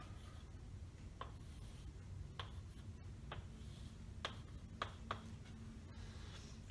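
A pen draws a graph on paper during a math lesson, making faint scratching strokes and a handful of light, scattered taps against a quiet background.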